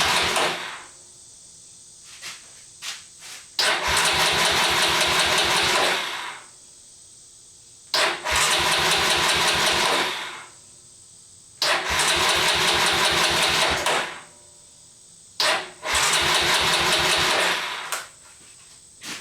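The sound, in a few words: Honda NX250 motorcycle engine cranking and starting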